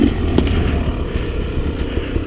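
A Beta 300RR two-stroke dirt bike engine idling and blipping through a slow pivot turn among deadfall in the woods: a steady, close, rough motor drone with light clatter and small throttle pulses.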